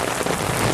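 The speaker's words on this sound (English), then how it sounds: "it did rain, and it rained a lot" Heavy rain pouring onto concrete, a dense, loud, continuous hiss and patter of drops close by, with no voices.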